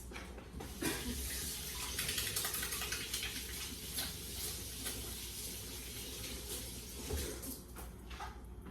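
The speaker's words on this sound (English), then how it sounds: "now I gotta wash my hands." Tap water runs steadily into a sink while hands are washed, a continuous, fairly loud broadband splashing with small shifts in texture and no talk.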